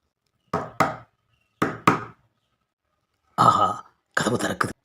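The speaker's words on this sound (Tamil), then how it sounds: "கதவை தட்டுவோம்" Someone knocks on a house door in two sharp double raps, close and separated by silence, before voices begin speaking.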